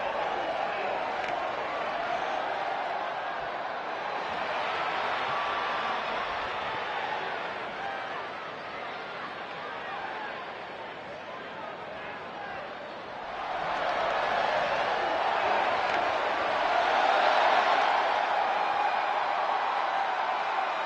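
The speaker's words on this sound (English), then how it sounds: "And Michael, it sounds to me like this crowd already picked the one who they want to win this match" A large arena crowd in the wrestling game WWE 2K20 gives a continuous roar and murmur that dips in the middle and then surges louder and fuller, with no voices standing out.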